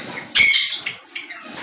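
A pet parrot lets out one loud, close squawk with a flutter of wings, followed by a few softer calls.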